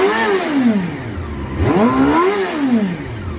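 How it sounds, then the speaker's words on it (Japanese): A Honda Jade 250cc four-cylinder motorcycle engine fires up and revs, pitch rising and falling twice in smooth sweeps, loud and close. "ではエンジンの方始動していきます。"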